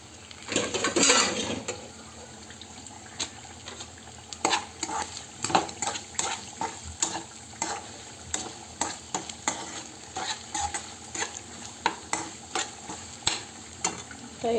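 Food sizzles in a pan while a utensil stirs it, giving a steady frying hiss under repeated clinks and scrapes of metal against the pan, close and fairly loud throughout.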